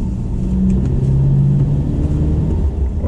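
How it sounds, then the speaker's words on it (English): Strong wind of 60 to 70 mph at about 900 metres on a winter mountain in Scotland, heard from inside a moving vehicle: a loud, unbroken, low rumbling roar with slight surges and no talk. "The wind has been estimated at 60 to 70 mile an hour at 900 metres"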